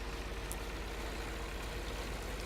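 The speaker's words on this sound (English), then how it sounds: "he's left the engine running because I'm just going to jump straight in the tractor" A tractor engine idles steadily in Farming Simulator 2013, a constant low rumble with a dense mechanical drone, unbroken and close.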